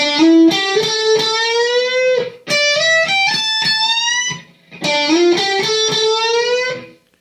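A distorted electric guitar plays a sustained lick in three phrases, each note bending upward and ringing loudly, up close with no voices.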